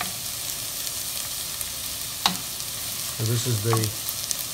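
Vegetables sizzle steadily in a pot before ground turkey is added, a continuous crackling hiss, with a person briefly speaking near the end.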